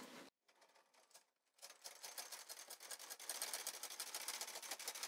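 Knitting machine carriage pushed across the needle bed on the first row, a faint rapid clatter of ticking needles that stops briefly, then resumes and grows denser and louder, with no voices.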